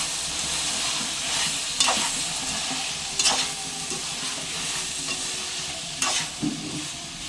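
Flat beans in a spiced curry stirred and frying in a pan, a continuous sizzle broken by several sharp scraping strokes of a spoon against the pan.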